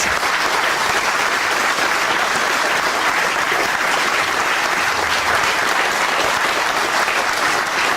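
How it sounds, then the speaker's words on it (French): A rally crowd at a public political meeting for Lille Métropole gives dense, sustained applause that stays loud and steady for the whole stretch, with no clear voices standing out. "je vais vous demander d'applaudir nos 18 têtes de liste pour Lille Métropole"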